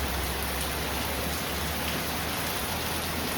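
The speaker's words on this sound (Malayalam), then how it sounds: "മഴ ഇപ്പൊ നല്ല കനത്തിട്ടുണ്ട്." Heavy rain drums on a roofing sheet in a dense, continuous roar, loud and close, with no break in the downpour.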